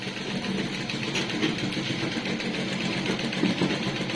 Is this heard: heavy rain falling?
no